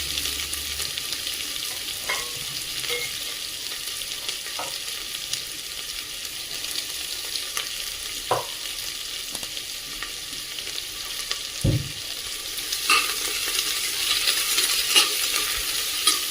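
Sliced onion sautéing in a pan with whole spices such as bay leaf, cinnamon and cloves, a steady close sizzle broken by a few sharp scrapes of stirring, with no voices.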